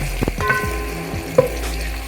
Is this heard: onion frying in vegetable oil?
yes